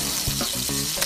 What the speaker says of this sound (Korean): 밑간한 새우와 삼겹살을 각각 4개에서 5개 정도 넣고 앞뒤로 구워주세요.